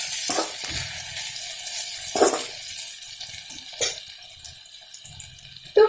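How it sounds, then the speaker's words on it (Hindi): Fish sizzling as it fries in a pan, a steady bright crackle with a few louder hissing bursts and clinks of stirring, close and alone without talk. "ये हाफ फ्राई हो गया है और थोड़ा सा फ्राई होना है"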